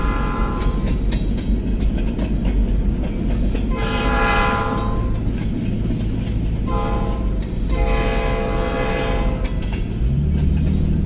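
An SD9-led freight train passing fast with gondolas and tankers nearby, a loud continuous rolling rumble with wheel clatter as the horn blows two long blasts close by.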